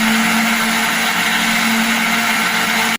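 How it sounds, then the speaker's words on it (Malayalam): A blender grinds rice batter with egg and green chilli, a loud, steady motor whir with a constant hum that runs throughout and cuts off abruptly at the end. "ഇനി ഇതിലേക്ക് മുട്ടയും നേരത്തെ എടുത്തു വെച്ച പച്ചമുളകും ചേർത്ത് ഒന്നുകൂടി അരച്ചെടുക്കാം."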